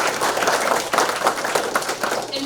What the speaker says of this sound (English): Give Lawrence a round of applause.